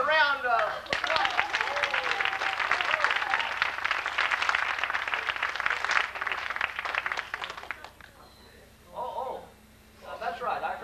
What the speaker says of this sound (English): Wouldn't you give a round of applause?